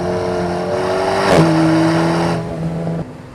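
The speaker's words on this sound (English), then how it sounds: "the racing driver instincts in me are pushing the car much, much harder" A car pushed hard around the wet Nürburgring, its engine droning loud and steady at high revs with a brief pitch shift mid-way, then easing and dropping off toward the end.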